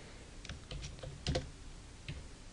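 Quiet keystrokes on a computer keyboard as a private message is typed, soft irregular clicks with brief pauses, close and alone.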